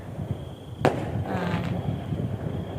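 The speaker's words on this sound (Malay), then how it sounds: "saya sendiri pun tengah mencari mana bunyi bunga api atau kembang api" A single sharp firework bang cracks out over a residential area at midnight during Malaysian Independence Day celebrations, followed by a brief crackling burst over steady outdoor background noise.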